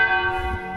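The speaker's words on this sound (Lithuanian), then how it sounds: "Iš karto po musulmonų maldos bažnyčios varpai." Church bells ring continuously in a town in Bosnia and Herzegovina just after the Muslim call to prayer, a steady sustained peal with layered ringing tones and no talking.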